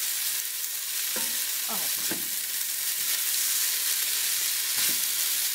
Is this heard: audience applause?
no